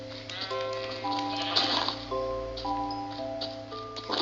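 A synthetic sheep bleats repeatedly in Minecraft in short, tonal calls over a steady background hum, with a few faint clicks.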